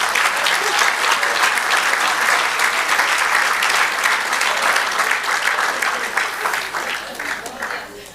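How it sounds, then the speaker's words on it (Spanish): A church congregation applauds during a Spanish-language sermon, a steady, full wash of clapping from many hands that holds for several seconds and fades slightly near the end. "Den un aplauso al Señor."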